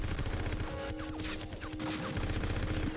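Rapid gunfire from the video game 007: Everything or Nothing, loud and continuous, with bursts of shots packed closely over a steady game soundtrack and no talking.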